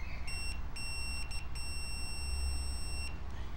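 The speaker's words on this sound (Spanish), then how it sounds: "El relay, si está bueno, tiene que pitar al tocar las otras dos patitas." A multimeter sounds its continuity beep while the pins of a 24 V DC relay are tested: a clear high electronic tone in several separate bursts of different lengths over a low background hum.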